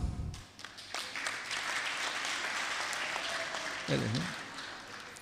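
Audience applause at an intergenerational climate forum, a soft, steady wash of clapping heard from some distance, with a voice briefly speaking over it near the end.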